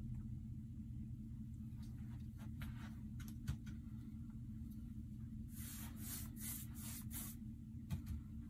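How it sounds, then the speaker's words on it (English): Water is sprayed in short hissing bursts over a painted wood surface during scenic wood-grain painting. A few separate spurts come first, then a quick cluster of sprays, all over a low steady rumble. "I'm going to go ahead and spray down the surface a little bit with some water."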